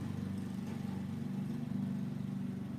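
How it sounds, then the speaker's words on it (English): A lawn mower running somewhere nearby, heard as a steady low engine drone that stays even and fairly faint throughout. "They're just mowing the lawn."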